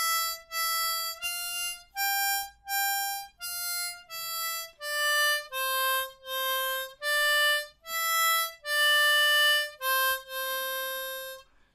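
A C harmonica plays a line of the Ode to Joy melody, about a dozen clear, evenly paced single notes, close and bright with no other sound.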